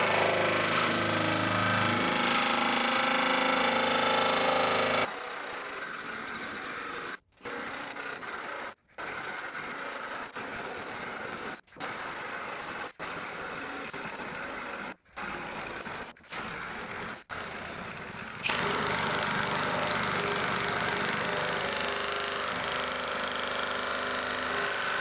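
Power cutter slicing through metal roofing sheets on a shed roof, a loud harsh grinding whine that runs steadily for about five seconds, breaks into clipped bursts with short gaps, then returns as a long continuous cut.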